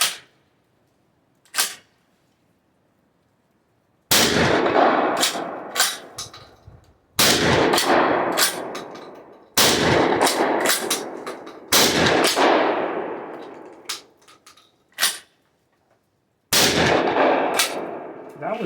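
An Ermox X-Pro T shotgun fires buckshot at a target, delivering a series of about eight loud, sharp blasts at irregular intervals with ringing decays and quiet gaps between shots.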